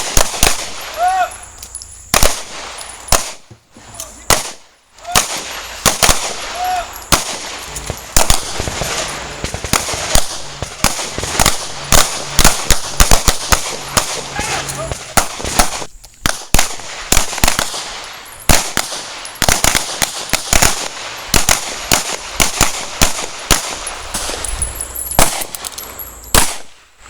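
Pistol gunfire on a shooting range during a basic self-defense pistol course, dense rapid volleys of sharp cracks from many shooters, loud and continuous, with shouted range commands in the background.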